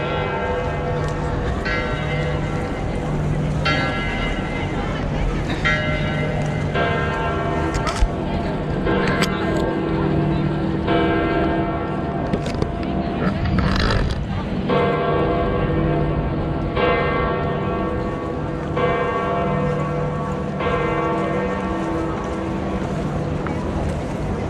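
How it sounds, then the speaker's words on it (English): Church bells ring at Saint Peter's Basilica in Vatican City, a series of regular resonant strikes repeating every couple of seconds over an open-air crowd murmur and wind. "we can hear the bells. The bells are ringing."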